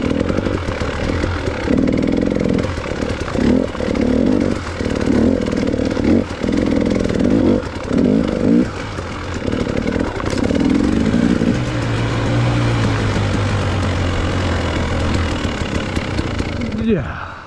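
A KTM dirt bike at a sand pit revs in repeated sharp, buzzing bursts close by, then settles into a lower, steadier idle near the end.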